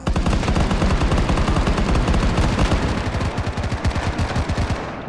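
Rapid, continuous gunfire from the Frontline mode of the video game Blockman Go, dense and loud bursts running steadily for about five seconds with no pauses.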